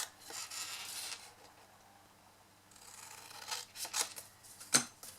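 Scissors snipping through card during a papercraft box project, a few soft crisp cuts close by, with one sharper snip near the end, no talking.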